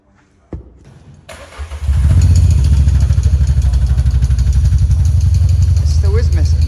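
A Renault Clio race car fitted with a Cobra exhaust cranks and fires up, then settles into a loud, steady, rumbling idle close by, with a faint click before it catches.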